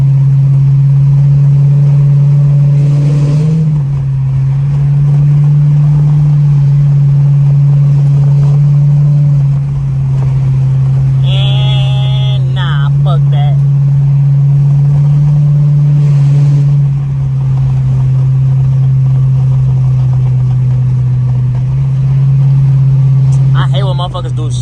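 A 2013 Chrysler 300C with a loud exhaust drones from inside the cabin while driving, holding a heavy, steady low rumble with slight swells and voices talking over it.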